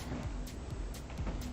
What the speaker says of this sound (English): so I'm going to hit it with a heat gun